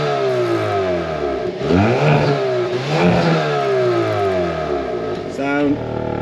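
A Hyundai Kona N with its gasoline particulate filter deleted is revved several times in sport mode. The engine is close and loud, with rising and falling sweeps and a crackling burst near the end.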